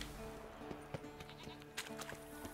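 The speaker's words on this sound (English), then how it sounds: "Oh, it's the goat." A goat bleats in The Witcher 3: Wild Hunt in a few short, bright, nasal calls over a quiet game background, fairly near and alone.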